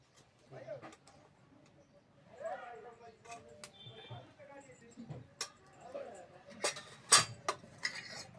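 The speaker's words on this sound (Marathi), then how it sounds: "हलवून घ्यायचं असं" A pot of green chickpea-leaf vegetable stirred with a spoon, sparse metallic clinks and scrapes of the spoon against the pot, fairly quiet, with someone talking in between and a sharp louder clink near the end.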